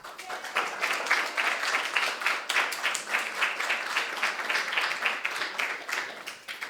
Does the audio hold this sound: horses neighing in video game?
no